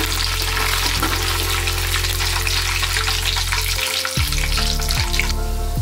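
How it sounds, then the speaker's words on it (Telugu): Tempering spices crackle and sizzle in hot oil in a kadai, a loud, steady frying hiss running throughout with a low background hum, no voices. "ఇవి ఫ్రై చేసుకుందాం."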